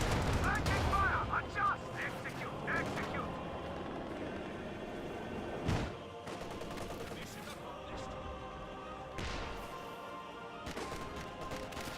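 A tank fires a HEAT round amid a Company of Heroes 2 battle: faint, distant cracks of cannon and small-arms fire, with sharp separate reports standing out over a low rumbling backdrop.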